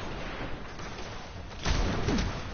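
Machine gun fire in the video game Destiny on PS4 comes as a short, muffled burst of rapid rattling shots that starts after a quieter stretch of game background noise and fills the final second.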